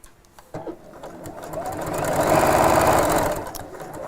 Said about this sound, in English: So I'm just sewing on top of the same stitch line that I've just made.